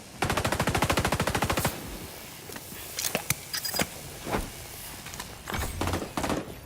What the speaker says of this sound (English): Weapon exceeding weapon level 100 for the MP5A2 submachine gun.